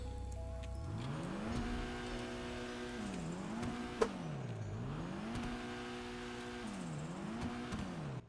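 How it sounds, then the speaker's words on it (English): Dinka Blista Kanjo with a turbo in GTA Online: the engine revs up and falls back in repeated waves, a rising whine and drop roughly every two seconds, with a brief sharp click midway and no talk. "It has a really cool turbo sound."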